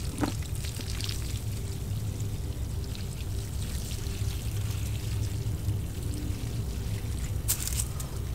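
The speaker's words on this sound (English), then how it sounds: "Now all you do is simply water around the base of the tree with the water for 5 to 10 minutes." Water pours steadily around the base of a tree during winter watering, a continuous close splashing gush with a steady level throughout and no talk.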